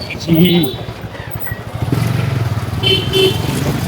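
A motorcycle rides past at close range on a road in India, with a steady engine drone that swells toward the end, with voices and street noise mixed in.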